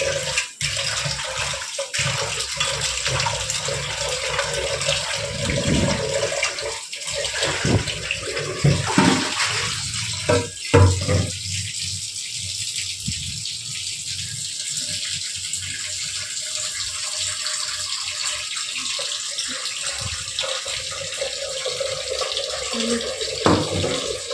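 Water runs steadily into an idli steaming pot with a continuous splashing, gushing flow and occasional rattles of the metal vessel, close and fairly loud throughout with no talk.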